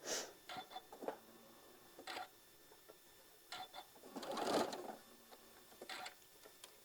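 Sewing machine stitching a quarter-inch seam on a maple leaf quilted table runner, in short, faint, intermittent bursts with small clicks between, one longer run near the end.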